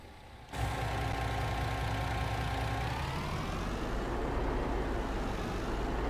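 A MAN truck in Farming Simulator 19 starts up, then idles with a steady, heavy diesel rumble. A faint whine drifts downward partway through as the engine settles.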